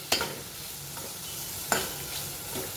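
Chopped dill leaves being stirred and roasted in a spice masala for shepu dal, with a soft continuous frying sizzle broken by a few sharp spatula scrapes against the pan.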